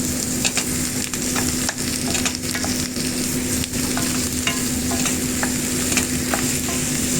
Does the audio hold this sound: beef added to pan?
yes